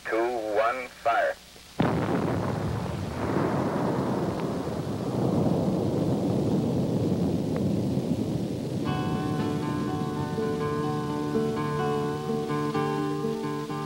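A huge blasting explosion at a copper mining pit near Butte booms out after a brief voice, then a long, loud rumbling roar that rolls on for many seconds with later tonal music underneath.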